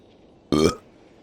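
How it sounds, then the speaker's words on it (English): A single loud, deep burp made on command, lasting about a quarter second and standing alone against a quiet background. "I can burp on command."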